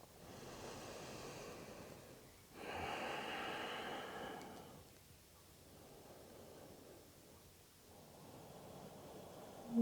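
Slow yoga breathing during a vinyasa flow, with long, soft airy inhales and exhales swelling and fading in a calm, close rhythm.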